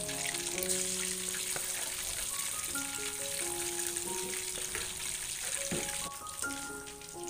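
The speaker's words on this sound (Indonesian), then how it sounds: "Siapkan wajan, kasih minyak, goreng ayam sampai matang." Continuous crackling sizzle of chicken frying in hot oil in a wok, close and steady, with faint clinks and background tones.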